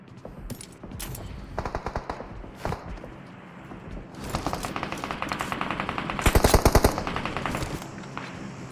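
Gunfire in a tactical shooter video game, rapid bursts of automatic fire and single shots rattling in clusters, moderately quiet, with no talk over it.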